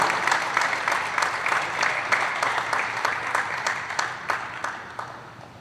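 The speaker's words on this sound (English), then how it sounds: "Let's have a round of applause for our senior managers and players, along with their parents." Applause for senior players and managers at a La Salle College High School basketball game, a steady wash of many hands clapping in a gym crowd, sustained and moderately loud with sharper individual claps standing out, no talk.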